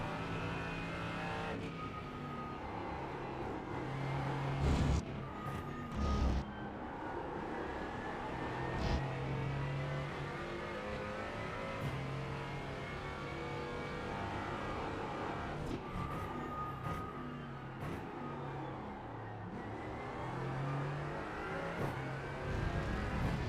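A Mercedes GT4 race car laps Suzuka in iRacing, its engine droning and revving steadily through upshifts and downshifts, fairly quiet and continuous with no voices.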